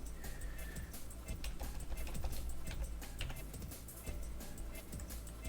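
Rapid keyboard typing on a computer during software configuration on openSUSE Leap 42.1, a continuous run of close, crisp key clicks with uneven rhythm and a steady low hum underneath.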